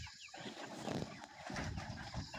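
Broiler chickens on a farm make low, busy clucking and shuffling sounds that fill the space in a steady, close murmur.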